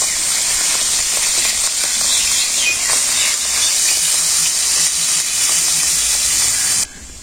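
Potatoes go into hot cooking oil in a pan alongside fish, giving off a loud, steady hiss of sizzling frying that continues unbroken for several seconds, then drops away suddenly. No voices are heard.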